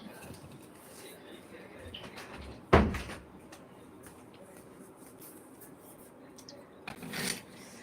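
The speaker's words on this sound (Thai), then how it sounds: "เอาปิดประตูก่อนเนาะพี่น้อง" A door is shut with one sharp, loud bang, and a softer knock or thud follows a few seconds later, all over a quiet room background.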